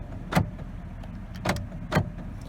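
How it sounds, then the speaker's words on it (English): Three sharp mechanical clunks come from the power door locks of a used car under inspection, spaced unevenly and heard close up in a quiet cabin. "Power locks, let's make sure they work."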